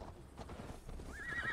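A horse neighs and its hooves clip-clop in the video game Assassin's Creed Valhalla, a rising whinny near the end over steady hoofbeats and game ambience.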